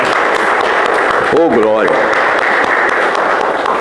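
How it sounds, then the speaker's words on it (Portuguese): A church congregation gives a round of applause during a worship service, a steady broadband wash of clapping throughout, while a voice calls out briefly in the middle. "Para o Senhor Jesus, uma linda salva de palmas."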